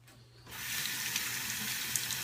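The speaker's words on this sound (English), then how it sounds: "rinse now. Some hot water." Hot water gushes steadily from a bathroom tap into a sink for rinsing after a shave, starting abruptly after a brief quiet moment and continuing as a close, full rush.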